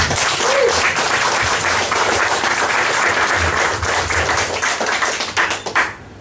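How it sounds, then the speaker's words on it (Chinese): An audience at a direct-selling business talk breaks into dense, sustained clapping that thins out and trails off into scattered claps at the end. "我们必须要给他一个掌声"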